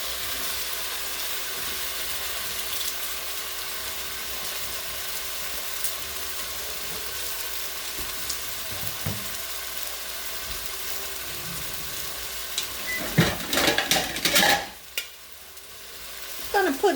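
Asparagus frying and sizzling in a pan for an Easter lamb meal, a steady close hiss of stirring and spitting oil that swells with louder clatter and crackle near the end; no talking.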